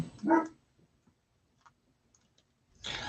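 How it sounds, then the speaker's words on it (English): A dog gives a single sharp bark, followed by near silence with faint ticks, then another bark at the end. "The heck is the dog going on about?"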